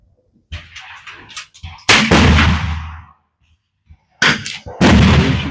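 A black powder Hawken muzzleloading rifle fires outdoors in heavy booming shots with a rolling echoing tail, separated by short quiet gaps and faint handling sounds.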